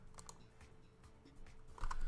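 Quiet clicking of a computer keyboard being typed on, scattered uneven keystrokes at low level, with a slightly louder burst of taps at the end.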